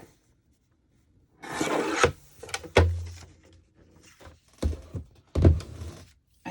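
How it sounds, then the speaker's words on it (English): A paper trimmer blade slices through paper at a craft table in a few separate rough, rasping passes, each a short scraping stroke with pauses between, close and fairly loud. "And then cut it straight. My trimmer is not cooperating."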